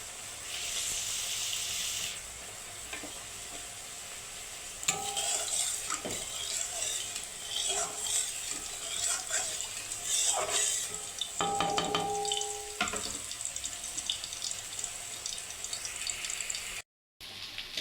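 Mustard oil goes into a hot pan and heats for cooking Nihere fish, giving a steady faint hiss with a few clinks and stirring scrapes, close by and fairly quiet.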